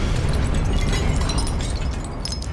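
An Incendio fire spell in Hogwarts Legacy bursts into a loud, roaring explosion of flame that fills the whole moment without fading.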